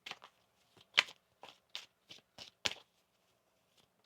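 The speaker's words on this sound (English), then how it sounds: "One more shuffle here." Tarot cards being shuffled by hand in a quiet room, a series of short, crisp riffling bursts spaced irregularly, close and fairly soft, with brief silences between each flick.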